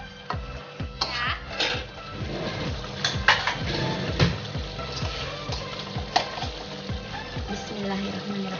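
Chicken in sweet soy sauce being stirred in a pan, with a spatula scraping and clattering in irregular strokes over a low sizzle, close and continuous.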